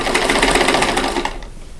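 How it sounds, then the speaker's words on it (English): A sewing machine stitches a quarter-inch seam on a quilt block, a fast continuous mechanical chatter close up, slowing and fading out at the end. "sew a 1/4 inch away from the drawn line on both sides of it"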